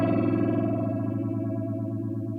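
Sustained tone processed through a phaser set to a very fast rate, giving a rapid swirling, warbling shimmer that holds steady and alone, moderately quiet.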